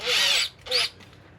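Power drill boring bigger holes for fatter screws on an old sailboat, two loud whining bursts of drilling separated by a short pause.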